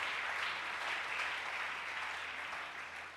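A church congregation applauding loudly, a dense and steady roar of clapping that fades slightly at the end.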